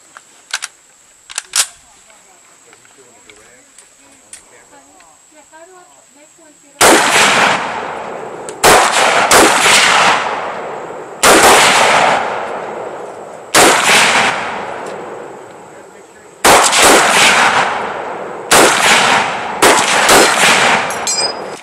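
An M1 Garand rifle fired at a shooting range: a few faint pops, then a string of about eight loud, sharp shots at irregular intervals of one to three seconds, each followed by a short decaying echo.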